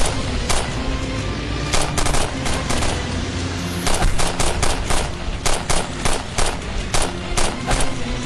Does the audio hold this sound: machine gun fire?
yes